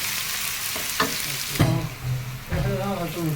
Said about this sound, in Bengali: ভাজা হোক, তবে তেল কম দেওয়া।